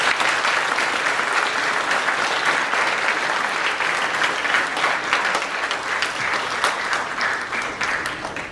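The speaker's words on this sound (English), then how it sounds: "Can we give the class of Distinguished Hall of Fame inductees another round of applause, please?" Sustained, loud applause from a large audience at a high school Distinguished Hall of Fame induction ceremony, dense continuous clapping that fades slightly toward the end.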